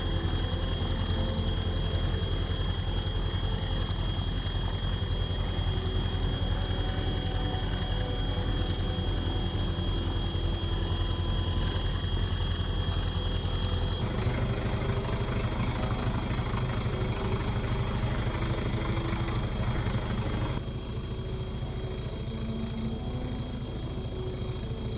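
A game aircraft's engine drones steadily in flight over a coastline, a loud constant hum that changes pitch and level slightly twice along the way.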